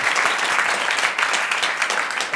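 A French game show studio audience applauds a winner, dense sustained clapping from many hands filling the room, loud and without talk.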